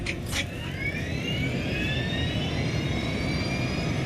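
An Air France jet airliner takes off from Paris, its engines roaring loud and steady with a broad rumble and a rising high whine that sweeps upward throughout, no voices present.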